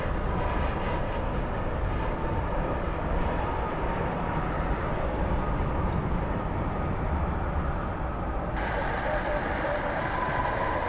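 Jet airliner arriving from Kahului at DFW Airport, a continuous broad engine roar with heavy rumble held steady and loud throughout, no pauses.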